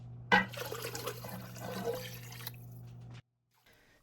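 Chicken broth and water are poured into a soup pot, a soft splashing and trickling stream over a low steady hum that stops abruptly, leaving brief near silence.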